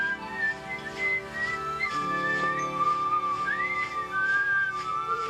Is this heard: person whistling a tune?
yes